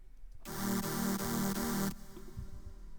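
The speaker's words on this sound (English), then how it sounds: "it's kind of like a bit crushed pad sound." A gritty, bit-crushed synth pad holds a sustained chord for about a second and a half, then cuts off abruptly, leaving a low background hum.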